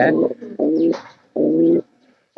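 A domestic pigeon coos in three close, low throaty bursts with short gaps between them, loud and near, with no other sounds.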